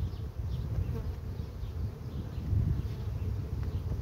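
Honey bees at a stationary apiary hive of a honey-producing colony make a dense, continuous low buzz that stays steady and close throughout.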